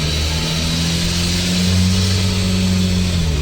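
A 1959 Ford F100 fitted with a 1.9L VW turbo diesel accelerates at low revs, its close, loud engine droning steadily with a rising hum as the turbo starts to build boost.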